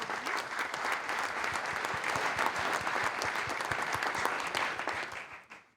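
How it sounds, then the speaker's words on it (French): Audience at a business school conference on ecological transition in Grenoble applauding, a full, steady burst of many hands clapping with some distinct nearby claps, holding for several seconds before tapering off. "Je crois qu'on peut déjà toutes et tous les applaudir pour ça."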